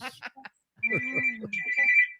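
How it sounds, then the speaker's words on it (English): A mobile phone rings in a live television talk show studio, a sustained electronic ringtone sounding under people talking and laughing. "Does it ever stop ringing?"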